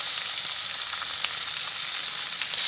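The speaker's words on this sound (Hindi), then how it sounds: "हमारा मसाला अच्छे से देखिए भुना चुका है" Chopped tomatoes, turmeric and spice masala frying with golden onions in a pan, a loud, even, close sizzle with faint stirring ticks and no speech.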